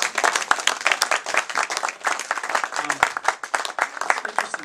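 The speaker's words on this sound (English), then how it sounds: "Let's give Laura another hand." Applause for a reader at a literary reading event, a small crowd clapping in a brisk, uneven patter of individual hands, fairly close and lively throughout.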